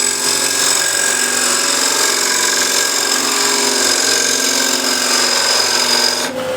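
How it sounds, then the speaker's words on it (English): A 12mm wide scraper cutting a rebate into a wooden picture frame gives a steady, loud, continuous grinding scrape with no talk, ending abruptly just before the close. "I'm going to use this 12mm wide scraper, one corner in, then roll to the other corner"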